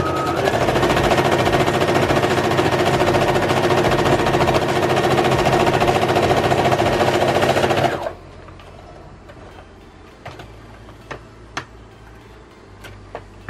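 A sewing machine stitching two layers of fabric together runs in a fast, steady mechanical whir for about eight seconds, then stops abruptly, leaving a few faint clicks and taps.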